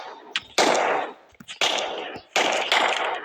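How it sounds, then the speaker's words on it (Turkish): Bursts of automatic gunfire in the mobile shooter PUBG Mobile, three loud sustained volleys separated by brief gaps, close and sharp. "Lan sıkıyorlar."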